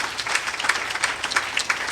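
An audience at a school speech contest claps steadily for the whole stretch, a dense patter of many hands, fairly close, with faint voices underneath.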